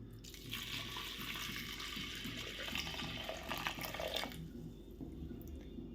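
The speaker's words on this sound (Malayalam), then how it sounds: "ഇതിലേക്ക് മുതിര മുങ്ങിക്കിടക്കാൻ ഭാഗത്തിന് വെള്ളം കൂടി ചേർത്ത് കൊടുക്കാം" Water pours steadily into a pot of horse gram for several seconds, then stops, with a low hum underneath.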